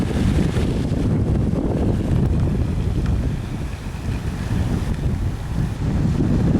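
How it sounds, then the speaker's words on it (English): Heavy wind battering the microphone outdoors, a loud continuous low roar that swells and dips in gusts, with nobody speaking over it. "Wow, it's really windy."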